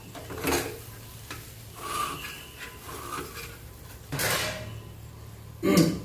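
A spatula scrapes and stirs egg paneer fry across a hot tawa in a few separate rasping strokes over a low sizzle, close and without talk.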